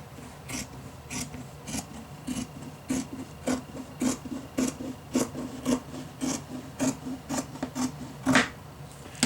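Fabric being cut into a 3.5-inch by 36-inch strip for scrunchies, heard as a steady run of short, close rasping snips repeating at an even pace, with no talking.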